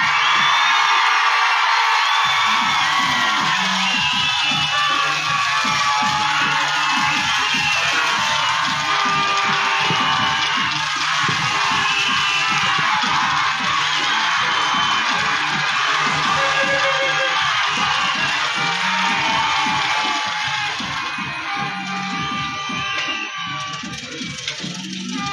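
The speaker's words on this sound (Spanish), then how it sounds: "Aplausos para la señorita Alejandra." A large outdoor crowd cheers, whoops and claps loudly for a festival queen candidate at the 2022 Fiestas Patrias in Quecholac, Puebla, with sustained shouting and applause running the whole time.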